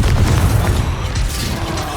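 A Confringo fire spell blasting in Hogwarts Legacy: a loud, heavy, low booming burst that rumbles on without a break.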